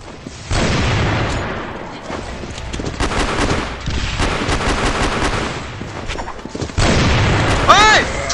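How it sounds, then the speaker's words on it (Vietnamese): Rapid gunfire bursts and heavy booms from a grenade blast in the Crossfire Legends shooter game's zombie mode, loud and repeated across the clip with brief lulls, mixed with a player's voice. "Lưu đạn"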